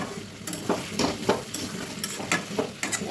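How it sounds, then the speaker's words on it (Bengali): A bay leaf hits hot oil for chicken do pyaza, giving a close, crackling sizzle with several sharp bursts and scraping stirs spaced through a few seconds. "এখন দিয়ে দিলাম তেজপাতা"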